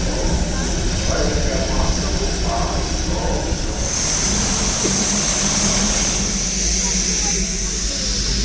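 A steady rumble from a diesel Darjeeling toy train, with hiss and rail noise, continuous and fairly loud, with a voice briefly audible over it.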